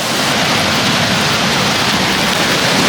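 A river flows nearby with a continuous, even rush of water, dense and unbroken for the short stretch, with no voices.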